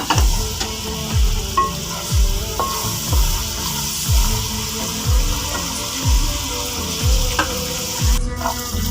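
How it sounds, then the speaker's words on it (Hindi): Whole spices such as black cardamom and bay leaves are frying in oil in a pot as the base of a chickpea pulao, giving a steady close sizzle broken by rhythmic scraping stirs about every half second, with no voices. "मसाला हमारा अच्छी तरह से भुन गया है।"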